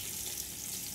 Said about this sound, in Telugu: ఆనియన్స్, పచ్చిమిర్చి వేసుకోవాలి ఫ్రెండ్స్